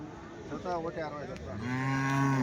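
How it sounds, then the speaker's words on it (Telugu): HF cross dairy cows moo at a weekly outdoor cattle market in Punganur: a wavering low call, then a longer, steadier and louder moo, both fairly close and with no talk over them. "ఈ 2 ఆవులు అయితే ఉన్నాయండి"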